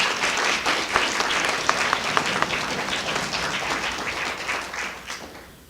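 Audience applause following a performance at a clan songs gathering, a steady wash of many hands clapping that fades out toward the end.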